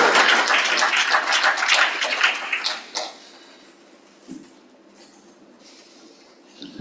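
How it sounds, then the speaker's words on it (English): Audience applause at a business meeting, a dense spread of clapping for about three seconds that dies away abruptly, leaving a quiet room with a few faint taps. "Please, a round of applause"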